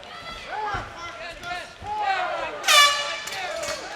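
A horn sounds to end a round at a live fight, a brief bright blast rising over an excited commentator's voice and arena noise.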